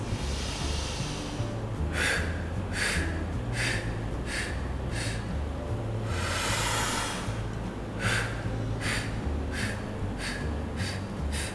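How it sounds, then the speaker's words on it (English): A breathing exercise repeats full inhalations and short exhalations, producing a steady run of close, sharp breath bursts with a longer breath partway through. "First, we'll do full inhalation and then short exhalation."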